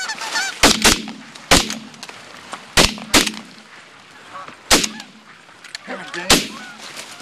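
Sharp, loud shotgun blasts crack out one after another, some in quick pairs, about seven shots in all, during a goose hunt, while geese honk and call continuously underneath.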